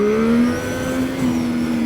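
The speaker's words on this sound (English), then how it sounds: "The rev limiter is quite nasty." A 675NK naked motorcycle engine held against its rev limiter, giving a loud, steady high-revving drone with slight stutters as the limiter cuts in, close and continuous.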